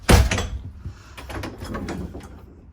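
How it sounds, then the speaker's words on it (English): A travel trailer's bedroom door slides open with a soft thump at the start, followed by quiet rolling and light clicks as it glides smoothly along its track. "So Vibe's got these funky doors here. They open really smooth."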